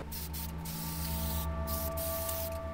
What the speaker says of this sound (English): I'm just going to go ahead and prime it with my Tamiya fine gray primer.